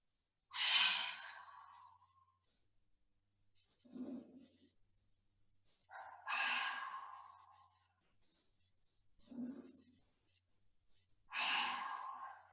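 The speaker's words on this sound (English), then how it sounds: "loud exhale through the mouth." A person doing yoga breathing lets out loud sighing exhales through the mouth, three strong breathy releases spaced evenly, with softer inhales through the nose between them in a quiet room.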